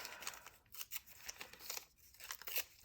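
Scissors snip a paper sticker into small pieces in a quick, uneven series of soft close cuts with slight crinkling. The cutting is quiet and there is no talk.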